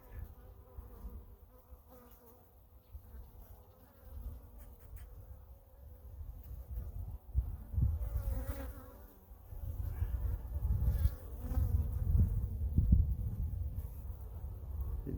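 Honeybees buzzing steadily around an open hive during an inspection, a close, continuous low drone that swells louder toward the end.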